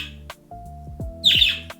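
A pet bird gives a few sharp, loud chirps and squawks indoors, close by, with a steady faint tone in the background; no one talks over it.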